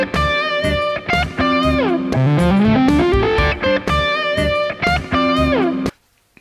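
A Dumble-style distorted electric guitar lead tone plays sustained singing notes, bends and a rising slide, loud and alone, before cutting off abruptly near the end.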